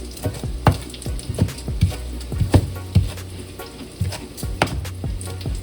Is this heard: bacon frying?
yes